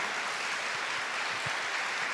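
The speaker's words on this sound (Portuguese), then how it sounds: "Vamos aplaudir a palavra de Deus." Church congregation applauding, a dense, steady wash of clapping from many hands filling the room at moderate volume, unbroken for a couple of seconds with no talk over it.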